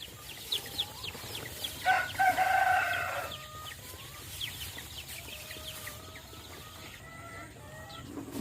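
Free-range joper chickens in a farm coop cluck steadily while a rooster crows loudly once in the middle, with scattered bird calls around them.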